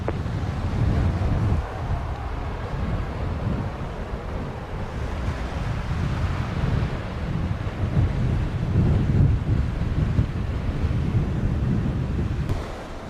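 Strong winds of about 33 mph sweep across an airport in Jamaica during planespotting, a loud, steady roar buffeting the microphone for the whole stretch with no talking.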